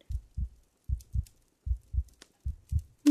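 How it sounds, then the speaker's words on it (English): A close, soft heartbeat thumps in steady lub-dub pairs, about four double beats in three seconds, low and muffled against near silence. "Can you hear my heartbeat?"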